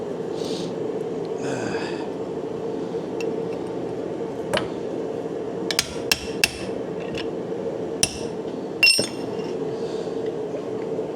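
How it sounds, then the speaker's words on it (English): A hammer striking a metal piece held in a vise, a handful of sharp, ringing metallic blows spaced irregularly across the clip over a steady background hum, with a few lighter clinks between them. "Because I'm hitting the vise, I'm going to get it so good on one side"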